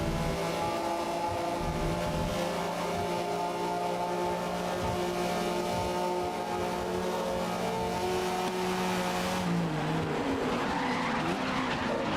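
Race car engine holding a steady drone in GRID (2019), breaking into a long tire skid as the handbrake is pulled, with the engine note dropping near the end; continuous and loud, no talk.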